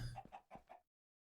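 A chicken in the Minecraft modpack Stoneblock 2 gives four quick clucks in a short burst, then silence.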